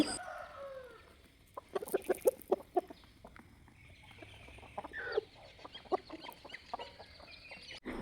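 Several chickens cluck nearby in short, irregular bursts, with quieter background noise between calls.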